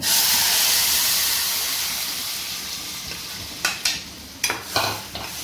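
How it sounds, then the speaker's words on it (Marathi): A tadka tempering for chutney hisses in a hot pan with a loud, steady sizzle that slowly fades, followed by several sharp clinks of a spoon stirring against the pan. "मस्त चटणीला तळी आलेली आहे बघा. तडका हे बघा सगळं टाकायचं."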